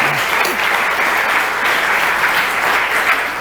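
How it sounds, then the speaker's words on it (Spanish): A church congregation applauds in praise during a Spanish-language sermon: dense, steady clapping fills the room from start to finish at an even, loud level, with no voices rising above it. "Denle un aplauso por favor a Dios."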